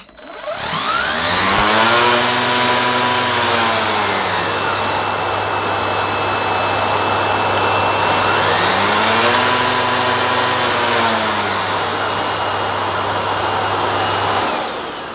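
A Vorwerk Kobold upright vacuum cleaner, VK150 or VK200, switches on and runs loud and steady, its motor whine rising and then dipping as the brush roll speed is changed, ending as it shuts off.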